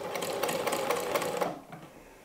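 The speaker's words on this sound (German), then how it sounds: "Und wir nähen los." A sewing machine runs a quick, rhythmic burst of stitches through fabric for a Halloween pumpkin basket, fairly close and loud, then stops abruptly and leaves quiet room tone.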